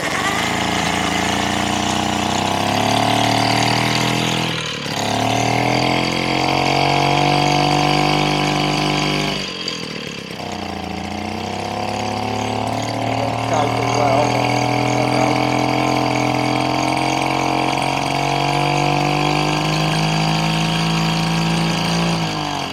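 A Mobylette moped's small engine runs loudly and steadily nearby, with two brief stumbles as it sputters low on fuel before picking back up, its buzzing drone lasting over twenty seconds.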